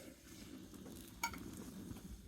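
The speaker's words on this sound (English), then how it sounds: "Just going to give that a stir" Couscous stirred into chicken stock boiling over an open fire, giving a steady close bubbling simmer with one brief metallic clink of the spoon against the pot partway through.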